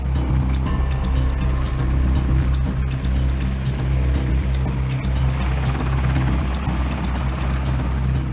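A presidential helicopter flies steadily, its rotor and turbine making a loud, continuous drone with strong low-frequency hum that holds unbroken from start to finish, with no talking.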